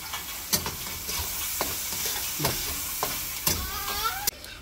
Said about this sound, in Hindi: इसको ना ऐसे ही फ्राई करते हैं तेल में ही।